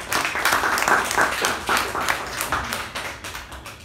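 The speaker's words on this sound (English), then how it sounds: "a big round of applause to the table topic master Sushruth" Applause rises for the table topics master at a Toastmasters club meeting, a moderate group of hands clapping steadily, gradually thinning and softening toward the end.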